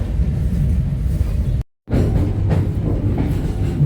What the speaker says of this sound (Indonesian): kereta api Joglo-Smarkerto baru berangkat dari Lempuyangan dan sekarang udah masuk di jalur 4 stasiun Jogja